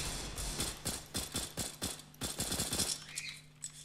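Rapid bursts of automatic gunfire from a rifle in the video game CS:GO, a steady run of sharp close shots that breaks off after about three seconds, with no talking.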